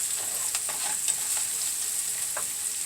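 Onions sautéing in a pan, a steady bright sizzle with intermittent scraping stirs of a utensil, close and continuous without talk.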